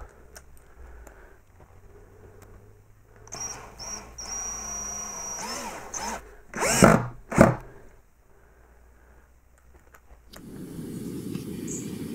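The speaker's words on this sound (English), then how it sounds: "the only thing left to do now is to put all the screws back in and install the tabletop" A power drill driving screws into mounting plates under a white oak RV tabletop, several short whirring bursts of varying length with quiet pauses between, the loudest runs near the middle, then a low rustling handling noise at the end.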